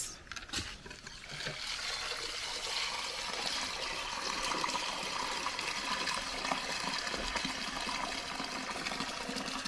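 Water is poured over soybeans in a container to soak them, producing a steady, soft splashing and trickling rush that continues evenly throughout.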